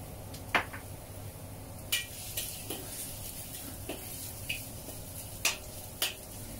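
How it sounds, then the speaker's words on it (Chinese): Minced garlic stir-fried in a little leftover oil over low heat, giving a faint, steady sizzle with a few sharp scrapes and clinks of a spatula against the wok spaced through the stretch. "用个慢火爆香一下啲蒜蓉"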